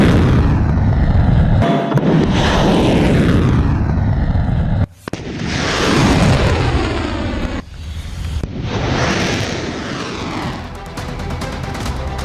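Missile strikes rain down in a barrage of heavy explosions, with booms and rumbling blasts overlapping one after another in a loud, continuous roar.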